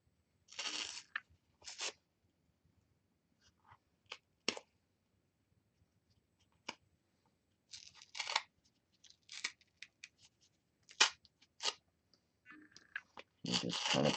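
A layer peeled off a tough corrugated cardboard box with a stylus, heard as scattered dry tearing and scraping bursts between near-silent pauses, close and quiet.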